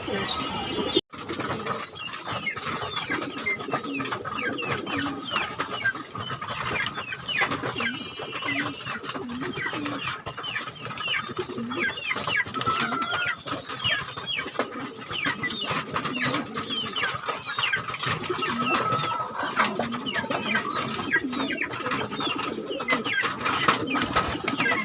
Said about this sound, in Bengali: আসেন কবুতর দেখি।